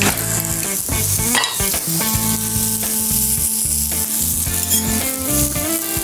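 Mango grilling in a pan, a loud, dense sizzle and crackle of frying with busy spitting and popping throughout, no talk.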